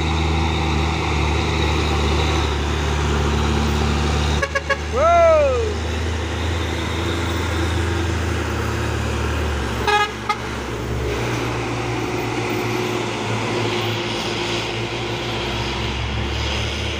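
Steady rumble of a convoy of heavy tanker trucks rolling past, with a horn toot partway through and a busy roadside background.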